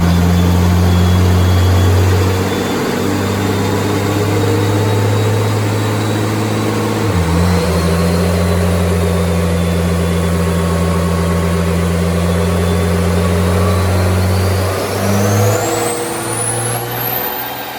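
A 1000 hp Cummins diesel truck roars steadily on a dyno, loud and close, its deep engine drone holding with a brief dip midway and a rising whine near the end.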